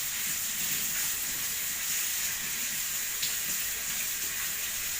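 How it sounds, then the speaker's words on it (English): Tap water runs steadily over carrots being washed in a sink, a continuous broadband splashing hiss that holds evenly from start to finish with no talking. "wash them thoroughly with running water"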